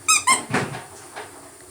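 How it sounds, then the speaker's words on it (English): A squeaky pet toy is squeezed twice in quick succession, giving two loud, close, high-pitched squeaks followed by softer rustling and faint handling noise. "The more I squeak this toy,"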